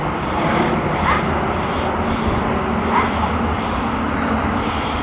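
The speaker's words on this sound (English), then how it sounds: "Seen that helicopter before? I don't know if it's a police helicopter or what." A helicopter passing overhead, a broad steady rotor and engine roar with a faint rhythmic beat, moderately loud and continuous.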